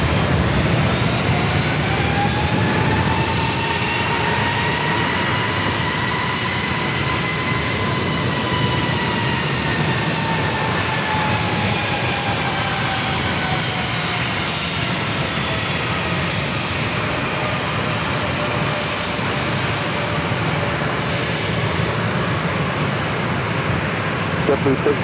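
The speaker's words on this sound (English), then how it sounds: "The JetBlue flight heading to Boston, flight 620. 7-year-old A321." A seven-year-old JetBlue Airbus A321 on flight 620 to Boston takes off at San Diego airport with a loud, sustained roaring jet engine whine whose pitch slowly bends as it climbs away; voices occasionally talk underneath.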